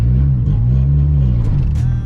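A boosted 9th-generation Honda Civic (2012–2015) fitted with racing shifter cables pulls hard under acceleration, its engine a loud, steady low rumble that holds for about two seconds with a slight rise in pitch.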